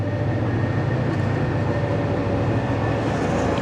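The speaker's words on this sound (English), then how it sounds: "Here comes the train." A long train rolls steadily past in Pattaya, a continuous loud rumble of wheels and wagons with a steady low drone, close by and unbroken for the whole stretch.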